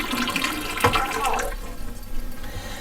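Water runs steadily through a Chanson Miracle M.A.X. water ionizer, a continuous close rushing and splashing flow while a person talks over it.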